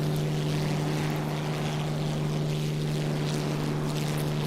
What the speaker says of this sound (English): And even you hear the beautiful wind noises.